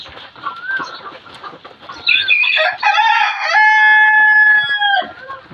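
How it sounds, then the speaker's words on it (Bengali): Egyptian Fayoumi chickens cluck nearby while eating feed, then a rooster crows loudly in a long drawn-out call, with more clucking around it. "আমি এখন আমার মুরগিগুলোকে খাবার দিলাম।"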